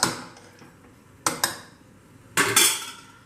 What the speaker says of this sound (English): I'll close the cooker lid now